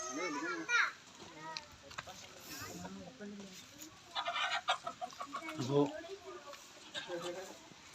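Chickens cluck and squawk close by in a coop in several bursts, with children's voices chattering and calling over them.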